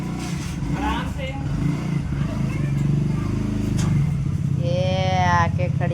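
A new scooty scooter rides up close with a steady low motor drone and then comes to a stop, while a voice talks over it throughout.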